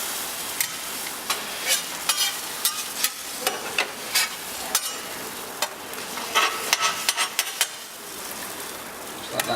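An egg fries in oil on a Eurostoves Culinarian griddle, a steady close sizzle broken by frequent sharp crackles and spits, with no talking.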